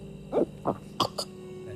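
The character Jaswant Singh in the film Satluj gives his distinctive cough, four short, clipped bursts in quick succession over a faint steady hum, fairly quiet and close.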